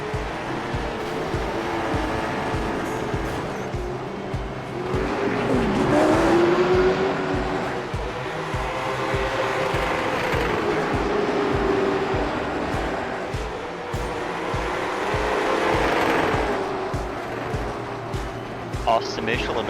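Race cars running laps in a racing video game keep up a continuous engine whine with rising and falling pitch sweeps as cars pass, steady and moderately loud beneath near-constant commentary talk.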